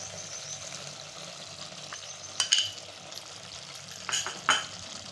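Onion and coconut paste sautés in a pan with cooked tomato for a spicy chicken curry, giving a quiet, soft sizzle broken by a few sharp clinks of the spoon against the pan.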